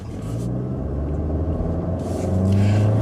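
A 2014 Nissan Altima with a CVT pulling away from a standstill on a track, its engine a steady, loud, rising drone and rumble heard from inside the car.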